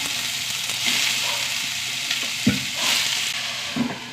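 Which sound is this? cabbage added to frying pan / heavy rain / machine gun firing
cabbage added to frying pan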